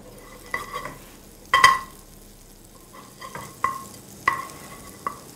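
Onion and celery stir-fry in a pan, a soft sizzle running underneath as a spatula scrapes and taps the pan in irregular, distinct strokes, fairly close and clear.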